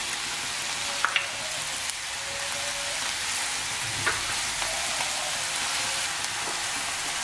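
Curry leaves and lengthwise-slit green chillies sizzle in hot oil for a Kerala-style country chicken curry, a steady close hiss of frying with a few small pops and crackles throughout.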